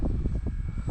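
A model warbird airplane's engine drones loudly and steadily as it passes close by in windy conditions. The engine note pulses slightly, and there is no talk.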